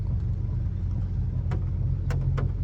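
A long truck rolls past in a hurricane, a steady low road rumble and engine drone under rain-heavy wind, with a few sharp splashy bursts near the end as it goes by.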